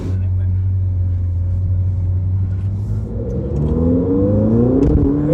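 A Ferrari 488 GTB engine holds a loud, low drone, then revs up with rising harmonic tones as it accelerates, heard up close from inside the car with some talk over it.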